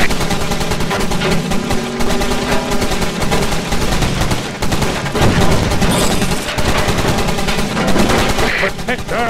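Sustained rapid turret gunfire from a vehicle combat game, loud and continuous with dense overlapping bursts and engine-like rumble, set against a busy game soundtrack throughout.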